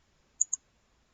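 Two crisp computer mouse clicks in quick succession, close and clear against near silence, made while selecting a brush tool in drawing software.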